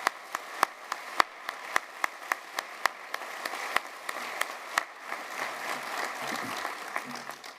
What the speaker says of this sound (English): Please join me applauding these talented young musicians.